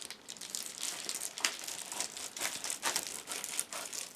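Scissors cutting through a strong Amazon shipping envelope, crisp crinkling and tearing paper noises close up, continuous and fairly quiet with no speech.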